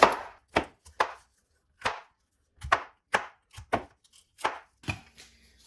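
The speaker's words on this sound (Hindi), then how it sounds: "अब यहाँ पे इसके हम ऐसे बड़े पीस कर लेंगे।" A knife chops food into big pieces on a board in a home kitchen. About a dozen crisp, close thuds land in an irregular rhythm with short silences between them, and nobody speaks.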